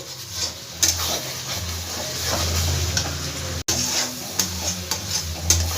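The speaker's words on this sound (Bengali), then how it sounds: "দেখো মশলাটা আমার খুব ভালো করে ভাজা হয়ে গেছে তেলটাও ছেড়ে দিয়েছে মশলাটার থেকে" Spice paste sizzles and crackles in hot oil as it is stirred in a pan, a dense continuous frying hiss with a few sharper spatters and scrape accents, close and fairly loud with no talk.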